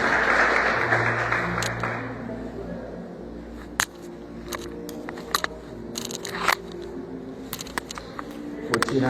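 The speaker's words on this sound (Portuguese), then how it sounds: "Você que puder agora, com alegria, aplaudir a nome do Senhor" Congregation applauding in a Portuguese-language church service, a burst of dense clapping at the start that thins into scattered claps and sharp clicks, with voices and background sounds continuing underneath.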